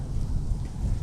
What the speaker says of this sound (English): Just got a little windy.